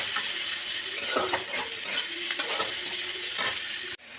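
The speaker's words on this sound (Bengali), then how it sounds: "বেশ ভালো করে একটু পেঁয়াজটা ভাজবো।" Onions sizzle in hot oil while a utensil stirs and scrapes the pan for a spicy chicken kosha, giving a continuous close frying hiss with intermittent stirring strokes and no talking.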